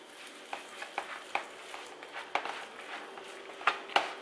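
A filling is stirred in a frying pan as it sizzles, with irregular scraping and clinking strokes of the utensil over a soft, steady frying hiss, fairly close and without talk.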